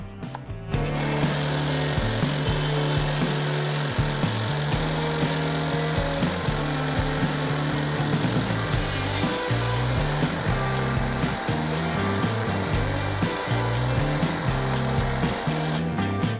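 A Dnipro-M DHT-200 cordless hedge trimmer cuts through a bush with a steady, loud, close buzz that starts after a brief pause and runs unbroken to the end, with small shifts as the blades meet branches.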